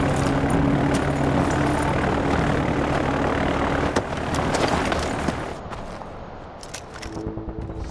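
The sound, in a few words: plane about to take off in video game Far Cry 4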